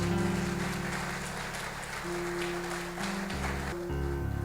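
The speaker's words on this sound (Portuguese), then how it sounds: "Só você que crê, aplauda ao Senhor bem forte." A congregation at a Pentecostal revival service applauds loudly and steadily, a dense wash of clapping over sustained church keyboard music.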